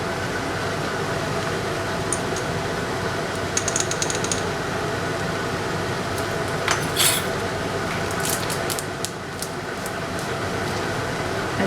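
Fork mixing Italian seasoning and other ingredients for a stuffed paccheri pasta bake, heard as a steady scraping and clinking of metal on dish over a constant background hum, with brighter taps clustered near the middle and end.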